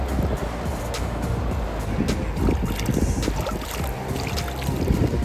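Clear mountain water flows through Yumthang Valley in Sikkim, a steady close rush of broadband noise with no pauses and no talking.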